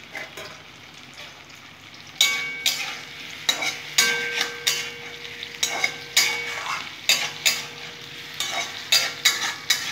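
Okra lightly frying in a pan, making a quiet sizzle that turns into a busier crackle with regular scraping and clinking from stirring. It is close up, with no talking.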